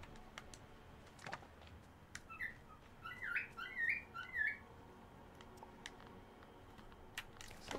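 A bird in the Disney Dreamlight Valley video game squawks in a quick run of chirpy, laughing calls midway through, standing out against quiet game ambience with faint clicks.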